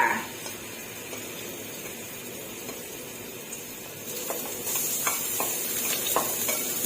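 Garlic and Thai roasted chili paste stir-fry in an oily pan for shrimp, giving a steady close sizzle with light scraping and clinks of a utensil, growing a little louder toward the end.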